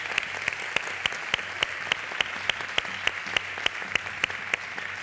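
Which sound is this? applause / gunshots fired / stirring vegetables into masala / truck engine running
applause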